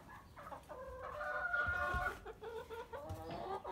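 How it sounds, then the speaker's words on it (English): Hens cluck in a barn on a small family farm, with a rooster-like crowing call rising in the middle; several birds are heard fairly close, in overlapping bursts with no talk. "Then for the chickens."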